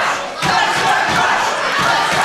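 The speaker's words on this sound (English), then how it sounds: "The crowd immersed in it." A live wrestling show crowd roaring and cheering in an arena, a loud sustained wall of voices with rhythmic swells of chanting.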